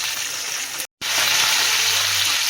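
Peanuts frying in hot oil in a pan for lemon rice, giving a loud, steady crackling sizzle with a very brief dropout partway through.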